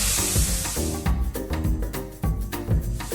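Minced chicken keema frying on a high flame with onion, garlic, ginger and green chili, giving a steady close sizzle and hiss broken by repeated scraping and stirring knocks from a utensil in the pan.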